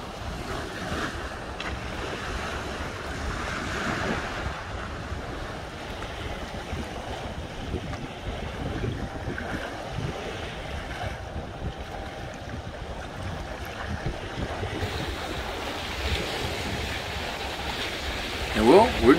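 Steady wind buffets the microphone at a beach, mixing with a continuous wash of surf, loud and unbroken throughout with a brief louder gust near the end.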